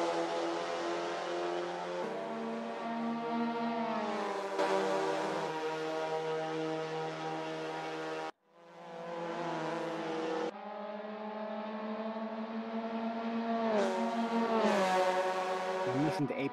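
Racing car engines in a racing video game whine with steady, bright tones that rise as they rev. The tones cut off sharply with each gear change, and several cars sound close together.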